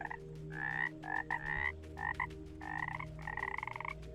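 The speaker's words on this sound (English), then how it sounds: "Man, these frogs are a dime a dozen, or the opposite." Frogs croaking in the game The game of Everything, a series of rhythmic, nasal croaks in bursts over a steady low background hum, fairly close and clear.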